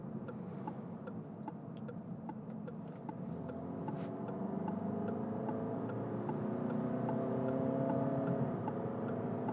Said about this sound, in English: you do hear it and you know it's a diesel, a 4-cylinder diesel